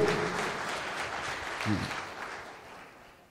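Applause from the audience at a political general assembly in Côte d'Ivoire honouring a deputy from Daoukro: a steady patter of many clapping hands that slowly fades out, with a brief voice partway through.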